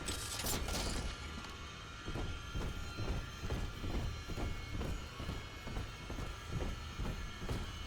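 A train in the video game Bioshock 2 starting up and running, opening with a sharp hiss, then a steady rumbling roll with regular rhythmic clacks, loud and close with no talk.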